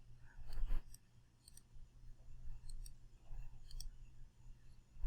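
A computer mouse clicks in scattered short bursts over a steady low hum, crisp and close, some clicks in quick pairs and others spaced out.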